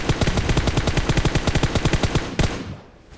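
Automatic gunfire in the battle royale game PUBG, a loud, rapid burst of evenly spaced shots close by, ending with one heavier report and a fading tail.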